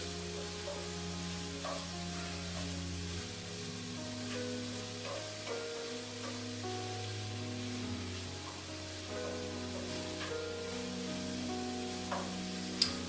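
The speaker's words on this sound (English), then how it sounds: "You can see the onions are cooking down pretty good." Onions fry and sizzle steadily in a pan for chicken, a continuous close hiss with occasional soft stirring scrapes and no talking.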